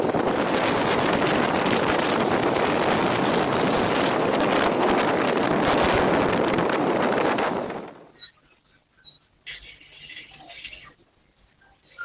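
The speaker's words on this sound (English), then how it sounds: "Violent waves and strong winds turned this peaceful harbor into complete chaos" Loud, continuous roaring wind buffets the microphone for several seconds, mixed with rough sea noise, then drops off abruptly to quieter, scattered sounds.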